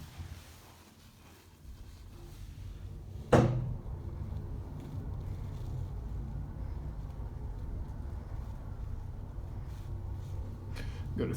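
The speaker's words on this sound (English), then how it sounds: "It's a hydraulic elevator." A Schindler hydraulic elevator in a Kristiansand shopping centre starts with a single sharp thump, then runs with a steady low hum and rumble that holds until the end.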